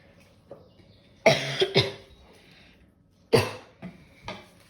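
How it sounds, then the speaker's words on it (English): Two bursts of harsh, wet coughing close by, each a cluster of rough coughs separated by a quiet pause. "that is not a dry cough, is it?"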